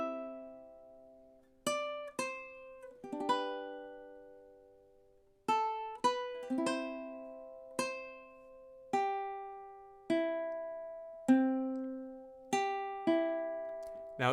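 Single plucked notes on a ukulele pick out measures five through eight of The Star Spangled Banner, a slow melody with clear ringing attacks and some overlapping notes, played quietly and close without any talking.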